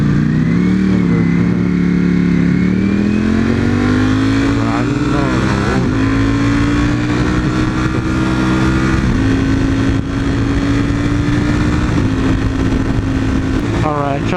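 A car engine pulls hard through the gears, the revs climbing, dropping at each shift and climbing again in a loud, continuous drone close to the microphone, with a voice talking over the engine at times.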